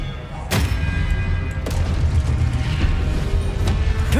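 Spell combat in the video game Hogwarts Legacy, an Expelliarmus disarming spell cast: sharp bright impacts at intervals over a dense low rumbling game soundscape, steady and loud throughout.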